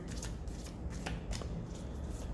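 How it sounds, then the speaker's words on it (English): Tarot-style cards being shuffled for a personality reading, a close, quiet series of crisp riffling flutters repeating in quick bursts with no talking. "One more shuffle."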